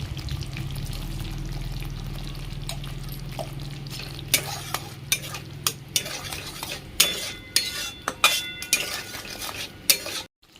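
Spices for Bengali chhena kalia curry are stir-fried in oil, with a low sizzle under repeated scraping and clanking of a utensil against the pan that grows sharper and more frequent toward the end.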